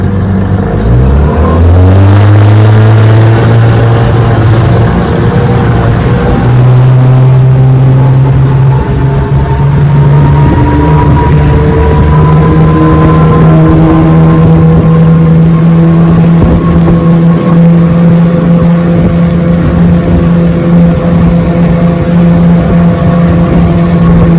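An old Johnson 9.5 HP outboard motor with an upgraded fuel pump, running on a boat out on the water, revving up in pitch early on, then holding a loud, steady droning hum close by.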